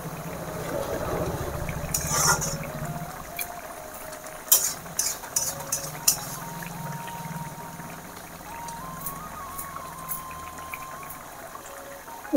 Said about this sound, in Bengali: এখন ভালো করে নাড়াচাড়া করে নেব।